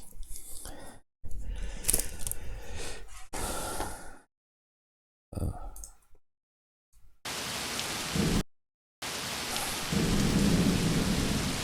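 Rain and thunder from the wartime strategy game Combat Mission Beyond Overlord: steady hissing rainfall with rumbling thunder, loud and close, cut by several abrupt silent gaps.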